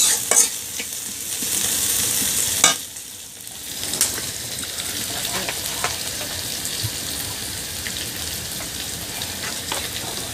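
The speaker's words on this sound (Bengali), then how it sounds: "এখন দিয়ে দিচ্ছি পেঁয়াজ কুচি, এখন বাদামি কালার করে ভাজবো।" Chopped onions fry in a pan, browning for a potato and egg curry. A steady loud sizzle hisses throughout, broken by a few sharp scrapes of stirring.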